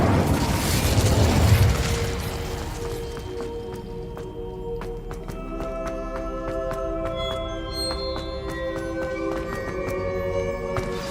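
A fiery Incendio spell bursts in the Hogwarts Legacy video game, a loud whooshing blast at the start that settles into a lingering roar with ringing magical chimes and sparkling tones.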